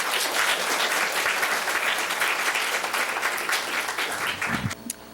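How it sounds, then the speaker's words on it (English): Sustained audience applause at a 4-H public speaking contest, honoring teachers and school staff; steady, dense clapping from a crowd fills the room and tapers off abruptly near the end. "Let's give a round of applause to our teachers, administrators, and school personnel"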